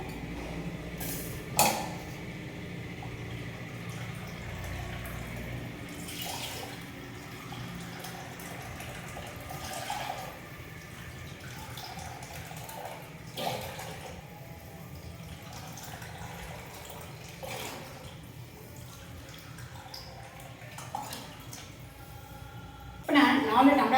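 Water pours and splashes steadily into a pot nearby for cooking semolina pongal, with occasional clinks, while a person speaks over it.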